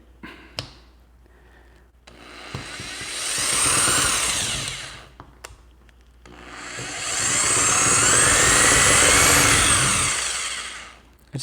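A power drill bores into a steel lock body of an American A52 padlock, running in two loud, close bursts with rising whine, separated by brief pauses and small clicks.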